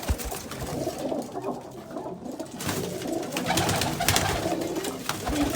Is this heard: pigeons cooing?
yes